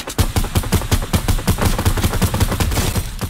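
Rapid sustained gunfire in a Fortnite-style video game, a loud, steady stream of close shots repeating in quick rhythm with no pauses.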